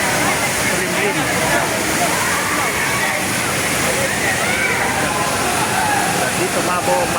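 Ditumabo Mother Falls in San Luis, Aurora Province, roars as a steady, dense rush of falling water that fills the whole stretch without a break.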